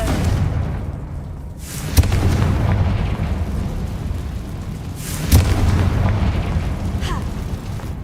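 Confringo blasting spell explosions in the Hogwarts Legacy video game: two sharp booms a few seconds apart over a continuous low rumble of in-game background noise.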